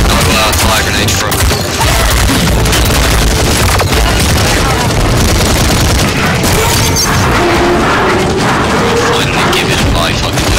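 Grenades fired and exploding amid dense, continuous battle noise in the video game Paladins, with booms and gunfire layered into a loud, unbroken roar and a voice partly buried beneath it.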